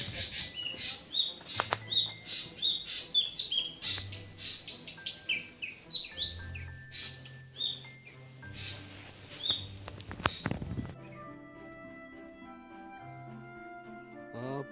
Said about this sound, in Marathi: दाट वनराईतून गडभ्रमंती करताना अधूनमधून येणारे पक्ष्यांचे मंजूळ आवाज